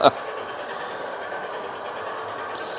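A sound-fitted model railway locomotive plays its onboard engine sound, a steady droning hum with faint rhythmic pulsing, close and even throughout.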